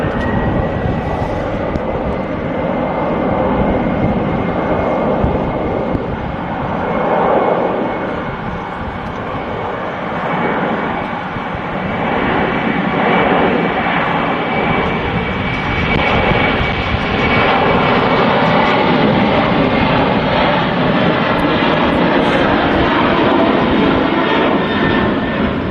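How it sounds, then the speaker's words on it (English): Loud, steady roar of a Ryanair Boeing 737-800's jet engines spooling up for takeoff at Liverpool Airport, a dense continuous rumble with a faint high whine, heard nearby and sustained throughout without letup. "Here we go. Ryanair 737-800. Spooling up."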